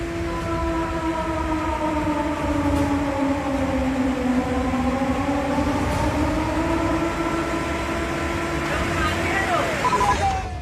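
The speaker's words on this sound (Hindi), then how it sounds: "सायरन की आवाज के साथ ये चेतावनी साफ साफ सुन लीजिए।" A wailing flood warning siren rises and falls in long sweeping tones, loud and steady throughout, with a rumbling train-like drone underneath.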